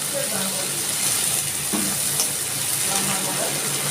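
Small chopped garlic cloves hit hot oil in a frying pan and give a steady, even sizzle that holds for the whole stretch, with a voice talking over it.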